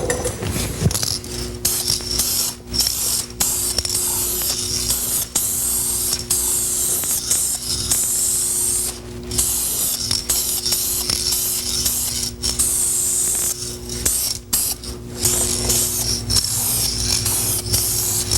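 Aerosol spray paint can applying car body paint: a steady close hissing spray running almost continuously, broken by many short releases of the nozzle.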